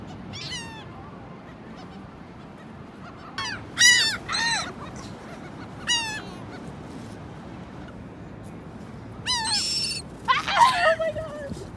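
Seagulls at Clearwater Beach give loud, harsh squawking calls in scattered bursts, some close and overlapping, above a low background of surf and wind.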